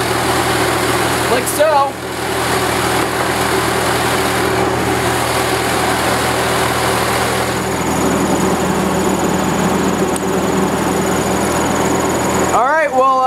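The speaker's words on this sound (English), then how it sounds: "So we're going to go ahead and crank start it. Should start right up." A WWII anti-aircraft gun generator engine being crank started, running with a steady mid-pitched idle throughout, with brief talk over it early on.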